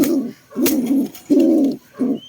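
Four low, throaty pigeon coos in a slow rhythm, close by, each a rolling hum with short pauses between.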